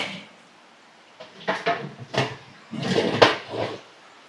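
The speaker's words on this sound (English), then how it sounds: "Just going to hinge up my Easy Spin grate" A hinged Easy Spin grill grate being lifted on an outdoor grill, a short series of close metallic clanks and scrapes in a few quick bursts, with no talking.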